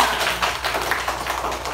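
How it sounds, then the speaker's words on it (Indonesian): A primary school class applauds together in the classroom, with a steady, dense patter of many hands clapping close by and no voices heard. "beri tepuk tangan untuk kita semuanya"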